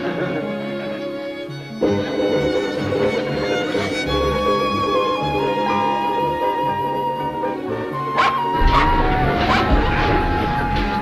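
A small dog barks and yips from inside a bed, its sharp calls rising over a steady bed of background music with brief crashing noises.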